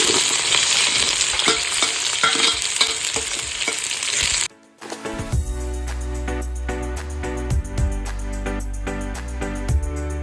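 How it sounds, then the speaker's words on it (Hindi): Onion and cumin frying in hot oil, a loud dense sizzle that cuts off briefly, then resumes with a spoon stirring and clacking against the pan up close. "जीरा हो गला पर हमें प्याज पकाइबा।"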